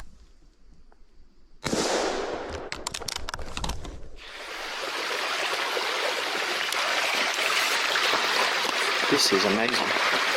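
Water rushes steadily at a forest creek crossing in the George Washington National Forest, a broad close hiss that builds after a burst of crackling sharp knocks and then holds loud and continuous.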